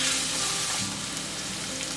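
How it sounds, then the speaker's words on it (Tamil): Ginger garlic paste sautés in a pan for an egg salan gravy, giving a steady, close sizzle and crackle with no voices. "இதோட பச்சை வாசனை போகிற வரைக்கும் நல்லா வதக்கிக்கோங்க."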